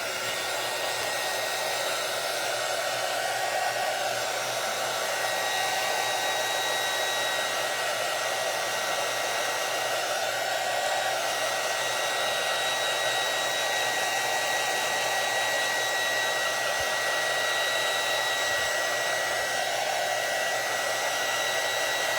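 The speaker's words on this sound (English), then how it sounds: "And I don't know if you can hear me over the dryer." Hair dryer blowing over freshly applied acrylic paint, a steady, loud whooshing hum that runs unbroken throughout with no voices.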